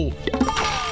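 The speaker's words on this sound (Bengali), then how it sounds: "আবার কে ফোন করলো?" A short burst of a cartoon telephone ringing, bright warbling bell tones lasting about a second, with a voice briefly overlapping.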